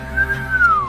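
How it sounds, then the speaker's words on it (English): A breathing-exercise exhale whistled through pursed lips gives one steady, close, clear tone that glides slightly downward as the breath runs out. "Inhale, exhale through the mouth in a whistle"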